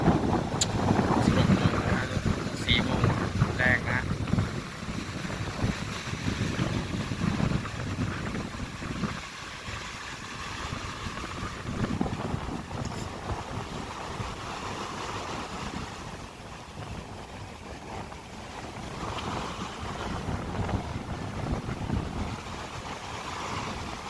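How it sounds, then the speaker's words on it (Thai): Strong wind roars across a boat at sea in rough waves off Bang Saen beach, Thailand. Continuous loud buffeting and wash fill the whole stretch while someone talks over it. "ลมแรงมากๆครับ คลื่นทะเลแรงมากครับ"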